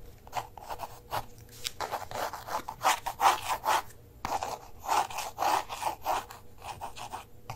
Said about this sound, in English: I love drawing with these kind of tiny pencils